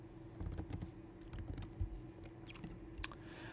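Someone types CSS code on a computer keyboard in a steady run of soft, close key clicks with no talking.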